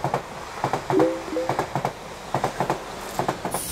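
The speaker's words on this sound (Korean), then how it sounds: "그럼 열차 출발합니다" A train runs on the railway test track at the Osong comprehensive rail test line, its wheels clicking in a steady clickety-clack over rail joints while a brief squeal rings out partway through.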